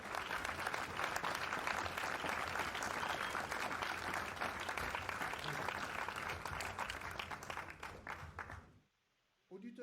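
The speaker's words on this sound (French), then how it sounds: "nous ne pouvons pas commencer cette émission sans applaudir ces belles dames" A radio studio audience gives sustained applause for invited women guests, a dense, lively clatter of many hands that holds strong for several seconds, then cuts off abruptly into near silence before a faint sound resumes.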